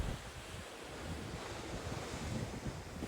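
Ocean waves and wind surround a cruise in the middle of the Pacific Ocean, a broad continuous wash of surf with steady wind buffeting the microphone and no voices.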